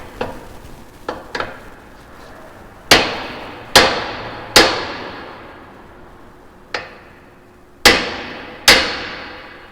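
A 5-pound Harbor Freight sledgehammer strikes a Honda CRX front upper control arm, starting with a few lighter taps and then landing about six sharp, ringing metallic blows at uneven intervals, close and loud with no talk.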